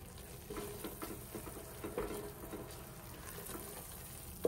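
Korramatta fish fries in a pan with turmeric added, a faint, even sizzle with soft crackles and an occasional light stir, heard close but quiet with no talking.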